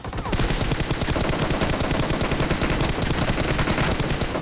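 Sustained automatic gunfire in a shooter video game, a dense, loud, continuous burst of rapid shots with no pauses.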